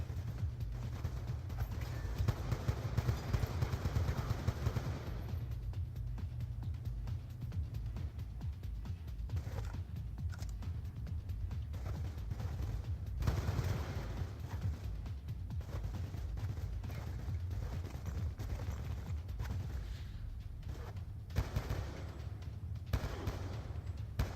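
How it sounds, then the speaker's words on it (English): Assault rifle gunfire in the Black Ops 2 campaign on Veteran difficulty sounds as scattered bursts and single shots over a steady low battlefield rumble, fairly faint, with no talking. "here you'll see the cleanest shot I'll ever make with an assault rifle"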